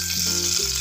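Ghee sizzling in a hot pan on a stove before wheat rava is added for upma, a brief, close, steady hiss with a slight rattle near the end.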